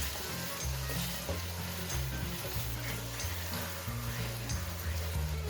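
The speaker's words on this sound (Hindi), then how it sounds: "अब हम इधर ऐड करेंगे हाफ कप दही का।" Half a cup of whisked yogurt going into a sizzling fish masala curry, a steady close frying hiss with soft stirring throughout, alone with no talk.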